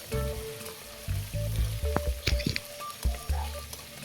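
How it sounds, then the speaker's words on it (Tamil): Ginger garlic paste sautéing in a pan for nonbu kanji, with a steady sizzle and the scrape and knock of a spoon stirring at close range, no speech. "இப்போ இஞ்சி பூண்டு பேஸ்ட் பார்த்திங்கன்னா நல்லா அந்த பச்சை வாசம் போகிற அளவுக்கு நல்லா வதக்கிக்கலாம்"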